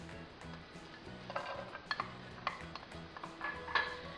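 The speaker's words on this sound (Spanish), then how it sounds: "Vamos a agregar la cebolla." Chopped onion going into a pan of olive oil with parsley, quiet clinks and taps of a utensil against the pan over low sizzling, faint and without talk.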